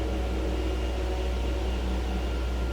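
Steady mechanical whir and hum of an automated factory cutting table pulling polyurethane material forward onto its deck, a constant near drone with no talking.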